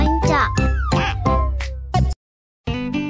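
A cartoon kitten gives a quick run of high, bright meows, about six in a row, close and loud, then a brief silence before another meow starts.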